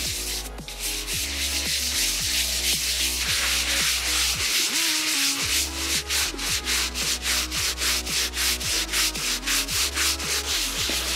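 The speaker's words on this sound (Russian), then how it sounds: "Берем щеткой." A stiff brush scrubs paving tiles treated with a stain-removal liquid, loud and close, the strokes speeding into a steady, rapid back-and-forth rhythm with no talking.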